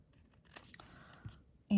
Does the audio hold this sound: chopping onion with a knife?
no